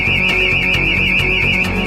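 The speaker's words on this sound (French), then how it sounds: "C'est le signal d'alarme." An alarm signal rings loud and steady through a building, one continuous warbling electronic tone that never breaks, with faint thuds beneath it.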